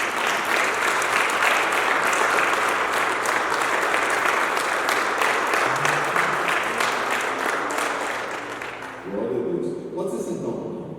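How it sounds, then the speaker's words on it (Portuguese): A church congregation at a Thursday evening service breaks into loud, sustained applause that fills the room for about nine seconds, then fades as a voice begins speaking over the last moments. "Uma salva de palmas para Jesus."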